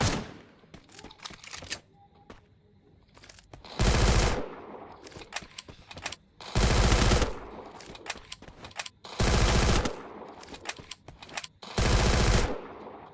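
Bursts of automatic MP40 gunfire in the Free Fire video game, four long sustained volleys of rapid shots spaced a few seconds apart, loud and close, with quieter game sounds between.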